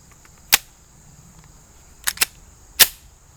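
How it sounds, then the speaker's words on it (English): Gunshots from Perfecta ammunition at an outdoor shooting area: four sharp reports, one alone and then a quick pair followed by a last shot, each crisp and fairly distant against a faint insect hum. "I'm going to run this Perfecta ammo"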